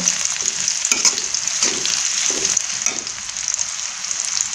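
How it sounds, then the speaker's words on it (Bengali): Onion frying in a pan gives a loud, steady sizzle up close, broken by several scraping stirs of a spatula, with no speech. "পেঁয়াজটা আমি একটু লাল লাল করে ভেজে নেব।"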